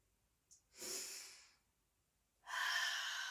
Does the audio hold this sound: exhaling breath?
yes